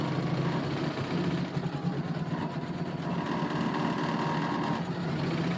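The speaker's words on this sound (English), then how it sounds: "what you're hearing is the hoop hitting, you know, vibrating up and down against the arm of the machine" An embroidery hoop pounds against the arm of a sewing machine while it stitches thread embroidery, a steady rapid mechanical rattle and hum, moderately loud and continuous, with no voices.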